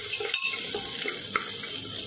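Finely chopped onion browning in a pan for dal khichdi, a continuous close sizzle broken by light scraping stirs and a brief clink, no talking.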